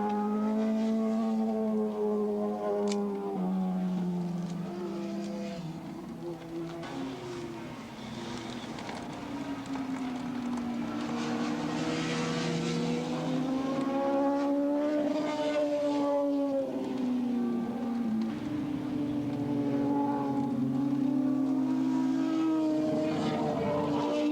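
Yamaha and Suzuki racing motorcycles in a 1986 open and 750 modified production road race at Willow Springs. Their engines make a loud, continuous droning whine that rises and falls in pitch as the bikes pass and shift.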